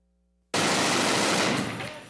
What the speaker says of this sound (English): U.S. Marines fired heavy machine guns in a major flare-up of hostilities in Fallujah, west of Baghdad.